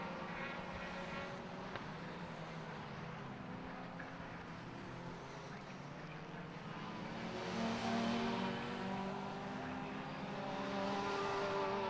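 Race cars in a Brands Hatch endurance race drone steadily in the distance, with engine notes rising and falling under a constant low roar and no nearby pass.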